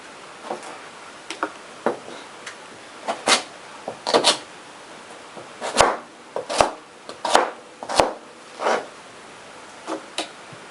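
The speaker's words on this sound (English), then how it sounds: "And just cut the endy bit off." A knife chops through the tattered end of a leftover vegetable on a board, making a series of crisp, close knocks at an uneven pace with brief pauses between cuts.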